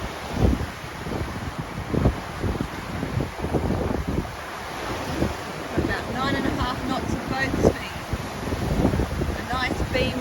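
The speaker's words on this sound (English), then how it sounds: "We got 17 knots of breeze." Steady wind noise buffets the microphone on a sailing boat in a 17-knot beam breeze in the Whitsundays, with waves and water rushing beneath and people talking intermittently over it.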